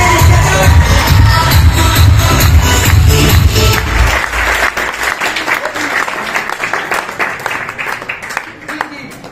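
A crowd claps at a welcome event in Rohtak, with a loud rumbling, heavy stretch at first that gives way to brisk, scattered clapping and shuffling, while voices mingle in the background.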